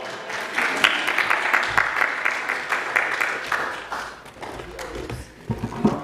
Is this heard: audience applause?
yes